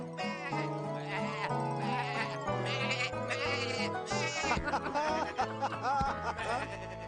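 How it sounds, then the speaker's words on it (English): Sheep bleat repeatedly over a bright cartoon music score in a children's farm show, the animal calls sitting fairly close among busy melodic accompaniment with no voices. "So that's the sheep."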